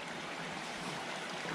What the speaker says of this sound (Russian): Полуразрушенный мостик. Поток воды.